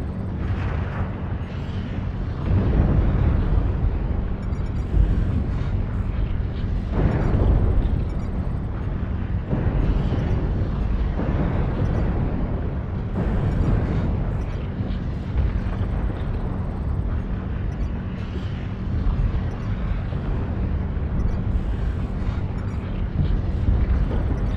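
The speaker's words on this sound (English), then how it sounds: "Artillery strike activated." Artillery strike explosions in a video game: deep, heavy booms and rumbling blasts rolling continuously and loudly, overlapping into a dense low roar.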